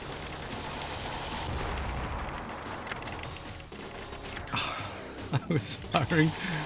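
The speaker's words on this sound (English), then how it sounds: "I was firing in a certain direction." Rapid gunfire and explosions from the arcade game Super Contra, a steady dense barrage of shots with sharper blasts near the end, loud and continuous with no talking.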